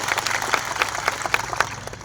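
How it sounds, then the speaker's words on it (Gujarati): An audience at an outdoor Aravalli hills rally applauds the police personnel on duty. The clapping is dense and steady, moderately loud, and continues throughout. "તાળીઓ પાડી લો."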